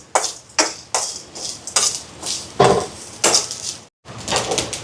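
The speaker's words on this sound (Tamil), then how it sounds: "இப்போ இது எல்லாத்தையும் ஒரு பொன்முகமாக வறுத்தெடுப்போம்" Whole spices such as fennel, mustard seed, peppercorns, cumin, cardamom and cinnamon bark dry-roasting in a pan, with repeated scraping and clattering strokes of a utensil against the metal in an irregular rhythm, close and fairly loud.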